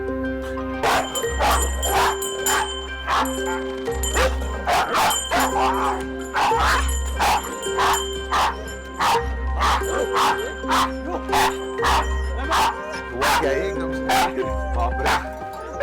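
Siberian husky barking in a Himalayan jungle setting, a long run of loud, regularly spaced barks close by, with a low hum running underneath between them.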